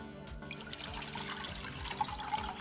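Water pours into a cup for an oatmeal drink, a steady close trickle and splash running throughout with no talk over it.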